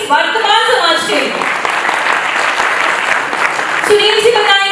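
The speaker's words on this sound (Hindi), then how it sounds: "तो जोरदार तालियां इस वर्तमान समाज के" Loud applause at a national summit program in Delhi, a dense wash of clapping in a hall, with voices or tonal sounds audible at the start and end.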